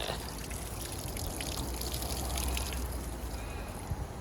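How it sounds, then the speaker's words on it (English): Water sloshes and pours steadily out of a car radiator being flushed with a hose, a continuous close splashing trickle with no talking. "I just filled up water, give it a good shake."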